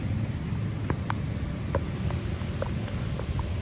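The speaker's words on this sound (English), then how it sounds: "a lot of rain." Steady rain falls in West Virginia, a soft constant hiss with scattered brighter drops tapping nearby, no voices.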